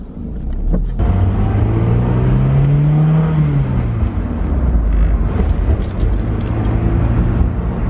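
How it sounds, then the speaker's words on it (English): A Honda S2000 sports car, rebuilt after being wrecked, pulls away: close engine note climbs as it revs through a gear, eases back, then settles into a steady running drone with some mechanical clatter. "let's take her for a little spin"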